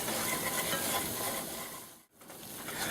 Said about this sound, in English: we're going to go ahead and just stir this up a little bit